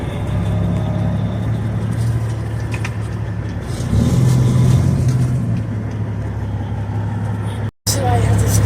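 A 2007 Peterbilt 379 flattop truck strains with the diff lock engaged, its loud, close engine drone rumbling steadily and swelling heavier midway, with a brief dropout near the end.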